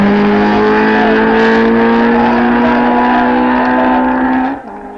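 A Ferrari 458 Speciale engine revs loud and sustained, its high-pitched wail climbing slightly over several seconds before cutting off abruptly.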